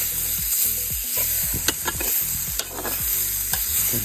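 Onions and sausages fry in a little oil over an open campfire, a steady close sizzle broken by a few sharp scrapes and clacks of stirring, with no voices.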